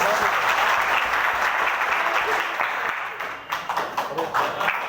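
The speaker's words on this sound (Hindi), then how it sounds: "भाइयों ने भी आपका काफ़ी तारीफ से स्वागत किया ताली बजा करके" Audience applause at a yoga teacher training program, a dense, steady wash of many hands clapping that fades briefly near the end, then returns in scattered bursts.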